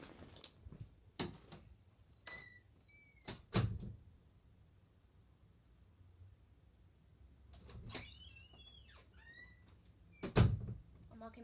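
A door in the horror game Baldi's Basics opens or closes with a few short knocks and bangs, set apart by quiet gaps and mixed with small squeaks and sharp clicks.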